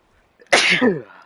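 A single sharp, close sneeze bursts out after a brief quiet intake of breath, then trails off.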